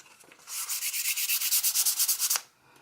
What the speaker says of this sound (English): we're just a quick skim sand, I call it, so you can just knock off anything that's still sticking up